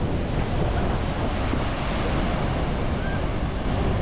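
Constant roaring rush of heavily falling water at Iguazu Falls, Argentina side, fills the whole clip, loud and close, with wind buffeting the microphone.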